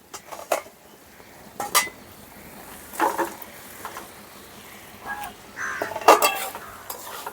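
Fried potatoes and pointed gourd being stirred into cooked masala in a pan, with several distinct scraping and clinking strokes of a spatula against metal spaced a few seconds apart over a faint background sizzle.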